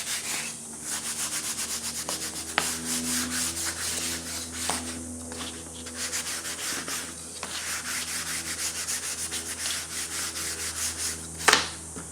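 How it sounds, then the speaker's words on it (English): A wooden aileron edge is sanded by hand, with rhythmic back-and-forth rasping strokes repeating steadily up close, plus a few sharp knocks. "Again, I'll sand this one."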